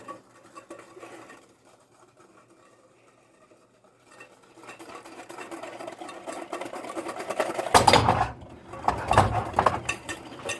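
Eggnog being whisked by hand in a bowl: after a quiet start, a rapid rhythmic clatter of the whisk builds and grows louder in dense bursts, with no talking.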